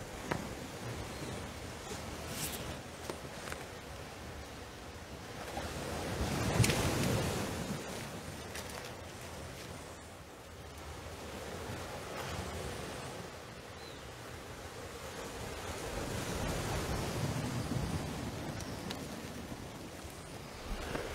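Ocean surf rolls and washes steadily at Folkestone Park near Church Point at daybreak, a broad continuous roar that swells and ebbs in slow waves, with wind buffeting the microphone and no voices.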